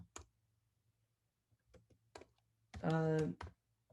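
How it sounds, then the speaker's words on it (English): A few sparse, faint clicks of typing on a computer keyboard, spaced out over a few seconds, followed by a short burst of a voice near the end. "I'm typing it now."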